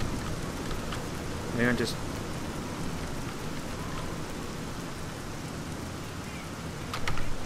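Steady rain ambience in the game Fallout New Vegas, a continuous hiss of falling rain with someone talking briefly over it.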